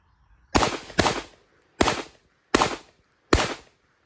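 Five sharp, loud blasts from a Mossberg 930 Tactical shotgun fired at a target on a range, coming close together at first and then at slower, uneven intervals, each with a brief decay and quiet between shots.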